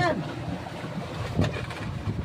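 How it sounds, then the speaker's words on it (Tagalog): Gusty wind on a boat at sea buffets the microphone with a steady low rumble, swelling briefly louder midway, with faint voices in the background. "malakas nga ang hangin"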